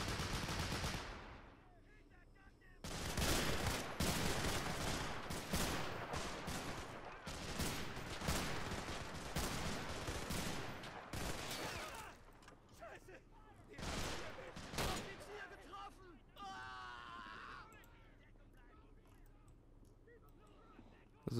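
Sustained .30 cal machine gun fire in the Men of War Assault Squad game during an infantry trench fight, loud dense bursts running for over ten seconds, then fading into sparser shots with a voice speaking briefly.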